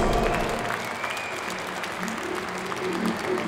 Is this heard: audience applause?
yes